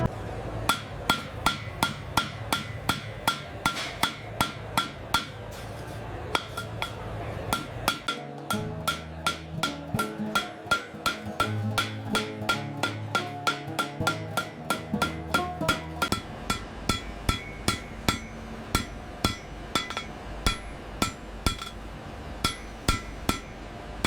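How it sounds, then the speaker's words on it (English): A factory deep drawing press forms copper pots from flat discs, heard as steady, rhythmic loud metallic thuds repeating about once per second, with a heavier rumbling stretch midway, alone without talk. "hydraulic deep drawing press systematically pushes the flat copper disc through a series of dies, progressively forming the cylindrical pot shape"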